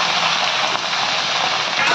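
Pumpkin leaf tips fry in a pan with a dense, steady hiss resembling rain, close and continuous throughout.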